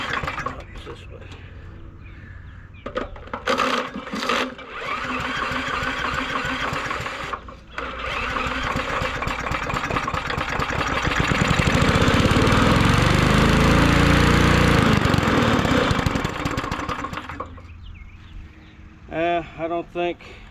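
A small engine fed from its push-bulb primer sputters, then catches and runs loud and rough close by for several seconds before dying out, with people talking over parts of it.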